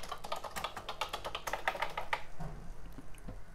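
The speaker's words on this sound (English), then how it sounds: "I can still type, I guess." Fingers type on the keyboard of an EG 2000 Colour Genie home computer: a quick, close run of clacking keystrokes for about two seconds, then a few scattered softer taps.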